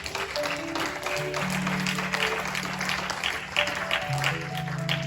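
A church congregation applauding and cheering for the Lord, sustained clapping from a crowd with sustained organ or keyboard tones underneath, steady and moderately loud throughout.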